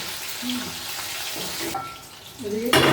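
Raw green banana chips frying in oil give a steady hissing sizzle across the whole stretch, with scattered clinks and a louder splashy burst near the end.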